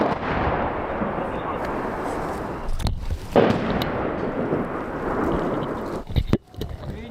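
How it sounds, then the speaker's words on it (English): Mortar fire on Ukrainian positions in Avdiivka, a heavy rumbling wartime din with booming impacts and a couple of sharp blasts standing out, loud and continuous. "the enemy is firing at the positions of the Ukrainian armed forces with a mortar"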